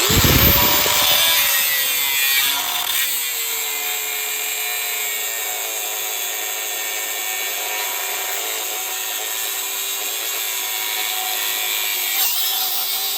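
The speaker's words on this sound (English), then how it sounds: "I'm going to take these and cut them off, these parts" A cutoff wheel slices through metal crossmember parts during a transmission swap, spinning up with a sweeping whine and then grinding on as a loud, continuous, harsh high-pitched screech close by.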